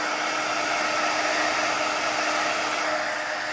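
A heat tool blows steadily to heat set embossing powder on vellum, a loud continuous airy roar with no breaks and no voices.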